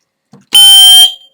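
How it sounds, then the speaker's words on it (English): Smoke detector sounding a single loud, piercing electronic beep of about half a second when its test button is pressed during pairing to a dispersed alarm system, close and alone. "the test call is simply done by pressing the test button on the smoke detector 3"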